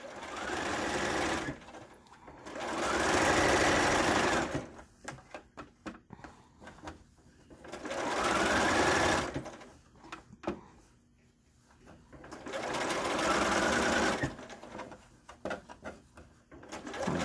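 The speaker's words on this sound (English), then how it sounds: "I'm going to put the next one in, and I'm going to stitch, staying right along that edge" A sewing machine stitches fabric masks along the edge in three long, steady runs of close, humming needle chatter, broken by quieter stretches of clicks and handling sounds.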